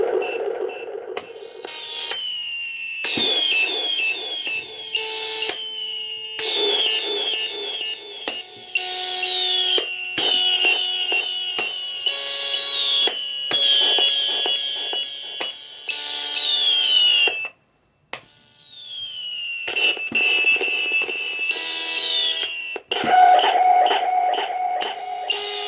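Circuit-bent Stylophone Gen X-1 with its red modulation switched on, playing continuous warbling, buzzy synth tones with rapid pitch sweeps and rhythmic stuttering notes, loud and close, with one brief dropout near the end.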